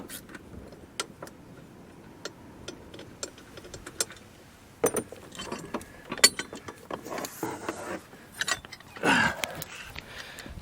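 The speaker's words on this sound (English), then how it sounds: "we need to tighten up those two Allen screws" Small metallic clicks, taps and tool rattles come from tightening two Allen screws on a Jeep Gladiator, scattered and close by, with some shuffling and handling noise between them.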